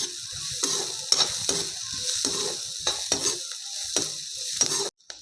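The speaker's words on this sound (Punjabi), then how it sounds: "ਸ਼ਿਮਲਾ ਮਿਰਚ ਨੂੰ ਵੀ ਆਪਾਂ ਹਲਕਾ ਜਿਹਾ ਭੁੰਨ ਲਿਆਗਾ" Chopped capsicum and onion frying in a pan for a bread breakfast dish, a steady close sizzle broken by repeated scraping stirs with a spatula, ending in a brief pause.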